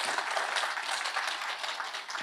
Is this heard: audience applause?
yes